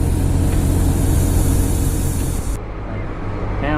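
Compressed air hisses steadily into a nearly flat planter tire from a running truck's air supply, a loud continuous rush over engine rumble that thins partway through.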